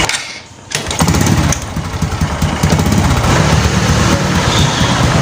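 A motorcycle engine runs close and loud with a steady, rattling idle that surges in after a brief lull at the start, with no talking over it.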